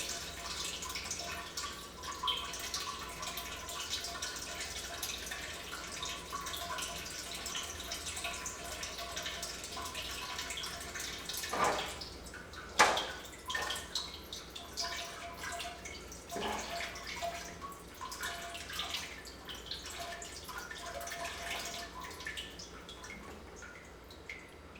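Water drains slowly from a pressure column during hydrostatic pressure measurement, a faint, steady trickle with scattered close drips and a couple of brief sharper splashes midway.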